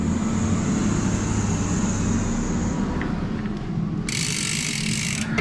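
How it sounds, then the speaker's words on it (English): Mountain bike pedal being loosened with an 8mm Allen wrench, a continuous mechanical ratcheting and grinding noise under a steady rumble, close and loud, with a brief higher metallic whir near the end. "When you take them off, use an 8mm Allen wrench"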